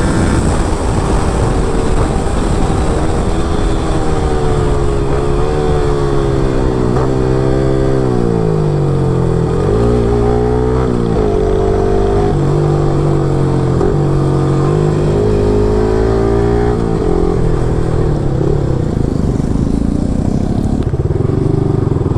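Yamaha R15 v3 motorcycle with FUEL-X run at top speed, a loud, close, sustained engine drone with rising and falling pitch and heavy wind rush throughout.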